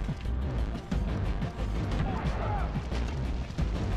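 Rockets and fire explode in the Far Cry 3 shooter during an outpost fight, producing dense, continuous booming and crackling blasts that wash together into a loud, unbroken battle roar.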